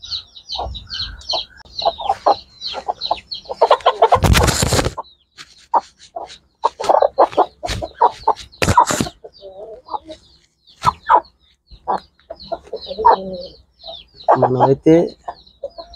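A hen and a breeding rooster cluck repeatedly and close by, part of a pair brought from Salem, with short calls running throughout while someone talks over them and a few louder noisy bursts break in.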